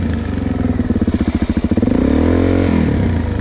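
A motorcycle engine revving on an uphill climb near a dump site. The engine is close and loud, its pulsing throttle settling into a steady drone.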